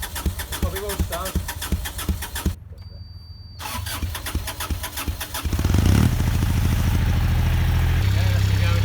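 A narrowboat's diesel engine on the Oxford Canal cranks in a rapid rhythmic churn, stops briefly, then cranks again and catches into a loud, steady low idle; people talk over the first attempt.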